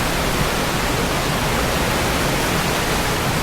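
Water from a mountainside waterfall near Beaver Lake Trail in Sitka, Alaska, gives off a loud, steady, broadband rushing hiss that does not change over the clip.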